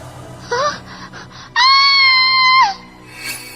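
A girl lets out one sustained, loud, high-pitched scream lasting about a second, preceded by a brief wavering cry, with nobody speaking.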